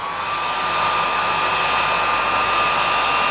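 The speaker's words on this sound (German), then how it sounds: "Wenn ich den Föhn jetzt an meine Haare halte" A hair dryer blows steadily at curly hair, a loud constant whooshing roar with a fixed whine, held close and unbroken from start to end.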